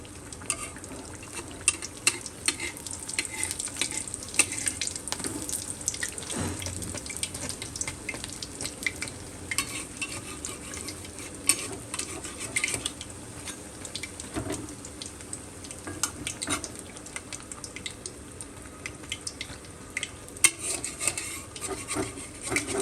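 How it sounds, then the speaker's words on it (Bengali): Eggplant slices fry in hot oil in a pan, a continuous quiet sizzle dotted with frequent small clicks and scrapes from stirring and handling over a long stretch. "বেগুন কাইটা রাখছি এখন হচ্ছে এগুলোই ভাজবো তো এই দেখেন দিয়ে দিচ্ছি"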